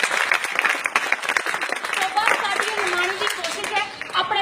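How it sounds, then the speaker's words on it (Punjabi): Audience applause fills a Punjabi stage play with dense, steady clapping that runs throughout, and a voice carries on over the top of it. "ਤਾਲੀਆਂ ਵੀ ਤਾਲੀਆਂ ਵਾਹ ਵਾਹ ਵਾਹ"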